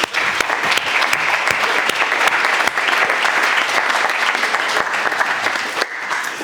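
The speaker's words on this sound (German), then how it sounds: "bitte ich um einen warmen Applaus für die ganz neue Band" Warm applause for a brand-new band at a church service in Dürrenäsch, a dense steady clapping from the congregation lasting throughout and tapering slightly at the end.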